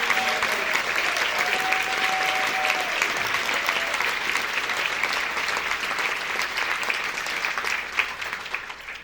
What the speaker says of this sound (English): And now, let's do the applause.